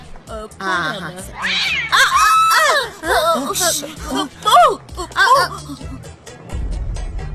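A cat meows several times in a row, drawn-out, wavering cries that rise and fall, close and fairly loud, with voices and some indoor background sound around them.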